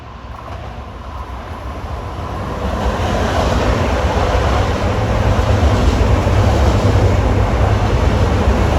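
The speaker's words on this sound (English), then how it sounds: "here comes train 6113 from Babylon to New York" Long Island Rail Road commuter train 6113, bound from Babylon to New York, rushes past the tower near Valley Stream with a broad, steady rumble that swells louder over several seconds and holds close, without any talk.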